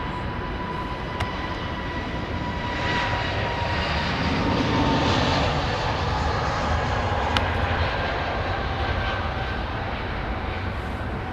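Boeing 757 engines at Heathrow Airport roar in a steady, loud, broadband wash that swells slightly around the middle and holds for the whole stretch, with no voices over it.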